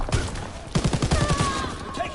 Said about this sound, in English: wow, them shotguns are dangerous